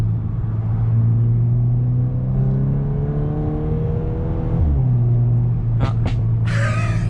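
A 2021 VW Golf R Mk8 with an Akrapovic exhaust drones and climbs in pitch as it revs from inside the cabin, then the note dips and a few sharp pops and crackles burst out near the end.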